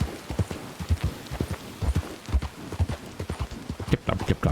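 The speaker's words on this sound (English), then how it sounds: "Tip clop, tip clop, tip clop." Horse hooves clip-clopping steadily at a walk in the video game Red Dead Redemption 2, close and rhythmic, with occasional faint talk in the background.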